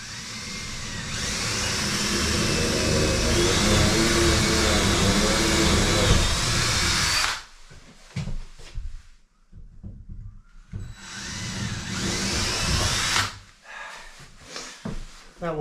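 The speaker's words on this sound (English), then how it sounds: "drilling the 2 holes you punched" A power drill bores two holes for expanding metal wall plugs while new shutters are fitted, giving two loud, sustained whirring bursts with quieter handling clatter in between.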